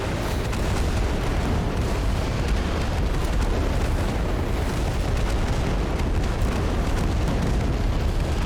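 Rocket artillery bombardment in Total Conflict: Resistance, a dense continuous barrage of explosions and booms roaring without pause, loud and close, with no talk over it.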